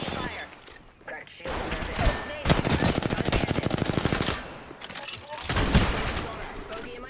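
Rapid automatic gunfire in a combat video game comes in dense bursts, loudest through the middle, with shorter volleys before and after, mixed with voices.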